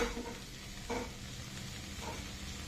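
Two garlic cloves fry in a pan with a soft, steady sizzle, punctuated by a few brief stirring scrapes, faint and close.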